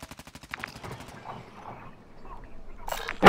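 Rapid gunfire in a first-person shooter game, a quick run of evenly spaced shots at the start, followed by quieter mechanical clatter and a sharp loud burst at the very end.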